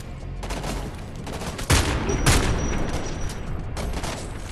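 Rapid bursts of gunfire in the first-person shooter Homefront: The Revolution, with two sharp, loud shots standing out amid continuous crackling fire and battle noise throughout.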